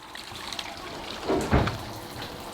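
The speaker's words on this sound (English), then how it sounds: "Okay, here comes the shower. I can hear it going down." Shower water draining through newly installed plumbing, a faint steady trickle that swells into a brief gurgling surge of water rushing down the pipe before settling back.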